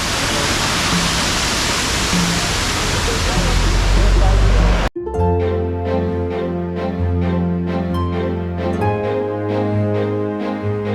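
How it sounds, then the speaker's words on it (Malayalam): Water falls from the rock top of a waterfall at Munnar in a loud, steady roar heard up close for about five seconds, then cuts off abruptly as music takes over. "പാറയുടെ ഏറ്റവും മുകളിൽ നിന്ന് വെള്ളം വന്ന് വീഴുന്ന ഈ ഒരു കാഴ്ച"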